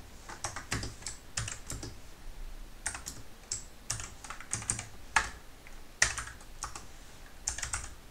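Computer keyboard typing while Python code is written, quick irregular clicks in short bursts and pauses, close and fairly quiet, with no speech.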